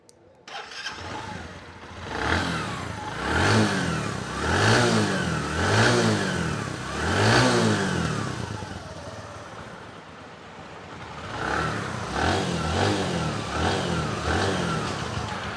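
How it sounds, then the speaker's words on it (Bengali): A used Bajaj Platina 100cc motorcycle engine starts and is revved repeatedly, each throttle blip rising and falling in a rhythmic pattern before dropping to idle and then revving again, close and loud throughout. "গাড়ির ইঞ্জিন সাউন্ড আপনারা শুনতে পারলেন"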